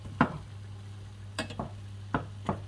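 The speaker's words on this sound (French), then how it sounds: "on va le plonger directement dans le miel." A golden fried almond cigar pastry is plunged into hot honey, giving a few soft, brief sizzling splashes and clinks spaced over a steady low hum, close and fairly quiet.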